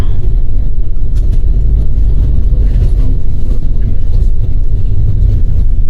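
A bus driving onto a ferry ship, heard from inside as a loud, steady, low engine rumble with no break.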